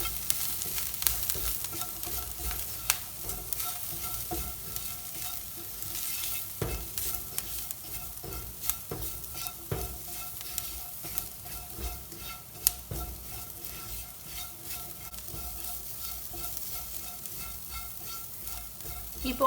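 Ground spice powders of pepper, garam masala and turmeric roast and sizzle in a pan while a spoon stirs and scrapes, giving a steady quiet frying hiss with soft scraping clicks and no voices.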